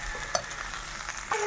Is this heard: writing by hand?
no